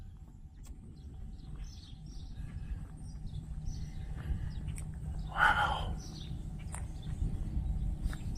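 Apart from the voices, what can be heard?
birds chirping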